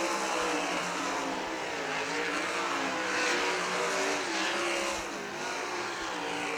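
Sprint cars race around Millstream Speedway, a loud continuous engine roar with rising and falling revs as the pack passes, alone without audible commentary.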